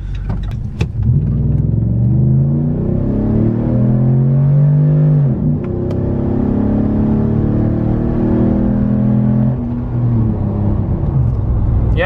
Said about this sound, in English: we're gonna do an acceleration right here.